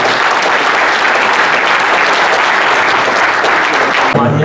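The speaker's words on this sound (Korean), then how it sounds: "인천 유정복 시장님께 다시 한번 큰 박수 부탁드립니다." At a Korean army officers' association security forum, a large crowd applauds Incheon mayor Yoo Jeong-bok. The clapping is loud, close and continuous, then cuts off abruptly near the end.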